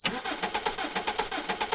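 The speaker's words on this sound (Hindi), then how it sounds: "फिर पप्पू गाड़ी को बार बार स्टार्ट करने की कोशिश करता है" A car engine is cranked over and over without catching, a rapid, even rhythmic whirring of the starter with a steady high whine behind it, fairly close and with no voices.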